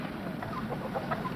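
Farm chickens cluck softly in a barnyard at a middle distance, a few scattered clucks over a steady background.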